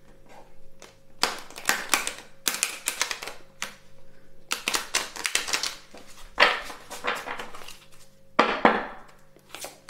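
Tarot cards shuffled and riffled by hand in bursts of crisp, rapid flapping and clacking, close and fairly loud, with short pauses between the runs and no talk.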